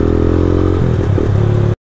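A Yamaha Mio scooter engine on an endurance ride: a loud, close, continuous motor drone with shifting pitch as it revs, rattling and clattering along, then cutting off abruptly.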